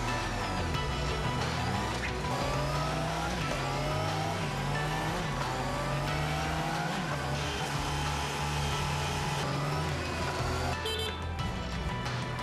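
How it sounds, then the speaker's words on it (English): A new Honda motorcycle engine running on a final inspection test platform, loud and continuous with rising and falling revs throughout, amid factory background noise. "each finished motorcycle is fired up for the first time and ridden onto a special test platform"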